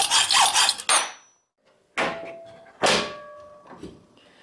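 A hood pin bolt is cut to length with a harsh rasping burst, followed after a pause by two shorter scraping strokes and light clatter, all close up.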